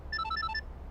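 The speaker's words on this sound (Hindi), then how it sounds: "अरे किसका फोन है?" A telephone ringtone chimes once, a quick electronic melodic pattern lasting about half a second, clear and moderately loud over quiet background.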